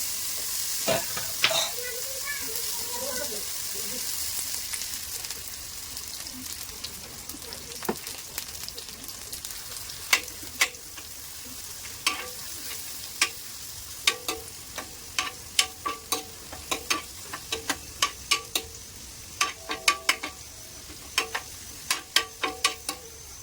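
Dal fries on a tawa with ginger-garlic paste in a steady hiss, with scattered sharp pops and crackles that grow more frequent toward the end.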